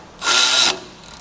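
Brief burst of a ratchet wrench tightening a bracket on the rear remote hydraulics of a Bad Boy 40 Series tractor, a single loud, close, rasping clicking run lasting about half a second, then fading off.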